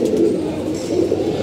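Pigeons coo steadily at close range, a low continuous murmur of several birds kept in a loft with young ones, with no voices over them.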